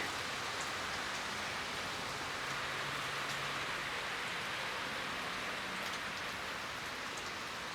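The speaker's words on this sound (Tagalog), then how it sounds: "Malakas na po yung hangin mga paps at ulan." Steady heavy rain, driven by strong wind, pours down on a kitchen roof in a constant dense hiss, with no voices or other sounds.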